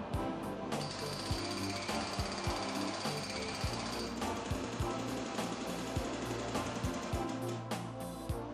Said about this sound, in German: Egal ob beim Arbeiten mit dem Meißel oder mit der Hydraulikschere zum Trennen der Bewehrungseisen und Schildkühlrohre